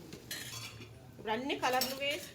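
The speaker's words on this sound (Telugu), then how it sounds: "ఇందులోనే పసుపు, ఉప్పు వేసేసుకొని బాగా మిక్స్ చేసుకొని కొద్దిగా ఉల్లిపాయ ముక్కల్ని మగ్గించేసుకుందాం" A spoon scrapes and clinks against a pan while onions with turmeric and salt are stirred, producing a few short metallic scrapes at close range with no talking.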